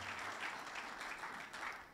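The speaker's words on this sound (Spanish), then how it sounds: "Démosle un fuerte aplauso al Señor" Congregation applauding the Lord at a church service after a sermon, a steady, dense wash of clapping from many hands that holds evenly for the whole stretch without a voice over it.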